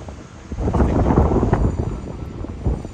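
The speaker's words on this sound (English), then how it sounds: "forgive the wind, it's very windy out here today" Heavy wind buffeting the microphone at Luna Park, Coney Island, a loud low rumble that surges and gusts steadily throughout, with no voices.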